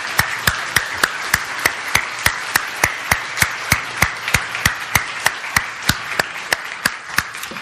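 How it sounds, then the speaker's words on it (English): Congregation in a Unitarian Universalist church applauding, heard as a steady, evenly spaced rhythm of sharp claps over a hushed room background, with no talking. "Can we give Susan a round of applause?"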